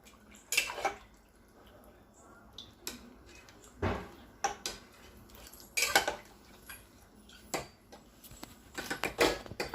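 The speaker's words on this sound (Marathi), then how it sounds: "पाणी घातल्यानंतर हे मटण आपण व्यवस्थित हलवून घेणार आहोत" Mutton being stirred in a pot after lukewarm water is added, with scattered clinks and scrapes of a utensil against the pot and soft watery sloshing, fairly quiet with gaps between the louder knocks.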